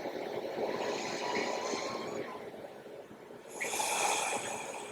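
Slow, deep breathing during a yoga stretch: one long audible breath and then a second one that comes in louder and more forceful, close and breathy, with no speech.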